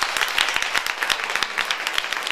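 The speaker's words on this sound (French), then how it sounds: "Je vous prie de faire un tonnerre d'acclamations, Léonard." An audience at a Christian gathering bursts into lively, rapid clapping to welcome a guest on stage, close and loud, with no speech.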